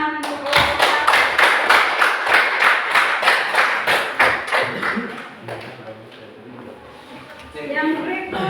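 Classmates give a round of applause after a group presentation in a teacher-training class, with fairly close, rhythmic clapping for about five seconds that fades into voices talking.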